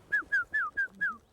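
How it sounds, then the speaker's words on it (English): Five clear, whistled tufted titmouse notes in spring, each sliding downward, repeat in an even rhythm, fairly close and alone against a quiet background. "that's the sound of the tufted titmouse in the springtime."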